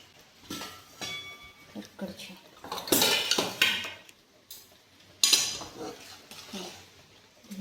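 A spoon stirring chivda mixture in a metal pan on the stove: repeated close scraping and clinking of utensil against pan in irregular bursts, with someone speaking intermittently.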